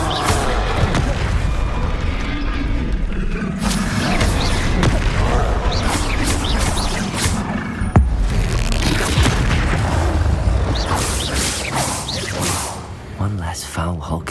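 Stupefy spell blasts and combat in Hogwarts Legacy: loud booming impacts and whooshes continuing through a dense fight, with a voice talking over the action.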